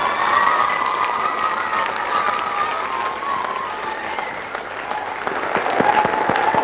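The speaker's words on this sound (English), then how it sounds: "what about a really big applause for all of the children and the work they've done?" A school concert audience at Nunawading Primary School applauds the children in steady, dense clapping with some cheering, loud and sustained throughout.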